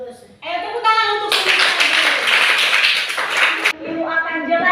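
A class of children claps their hands in a classroom lesson. It is a burst of dense, bright clapping that starts after a teacher's voice and ends cleanly before her voice returns, with talk on either side.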